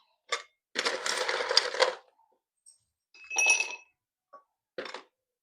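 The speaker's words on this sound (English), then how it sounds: "Now I'm going to take my rocks glass. I am going to put ice in there as well." Ice cubes dropped into a rocks glass while mixing a Georgia peach cocktail, heard as a few separate bursts of clinking and rattling, one long clatter followed by shorter knocks, close and clear with no talk.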